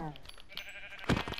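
A Minecraft sheep bleating in the video game, a short, clear bleat near the end amid game sounds and a voice talking earlier.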